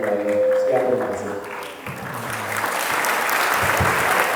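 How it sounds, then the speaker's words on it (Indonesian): An audience at an Indonesian motivational seminar breaks into applause for a participant named Indra. The clapping swells into a dense, steady roar after a brief tonal opening and carries on loudly to the end. "silakan tepuk tangan buat Indra sekali lagi"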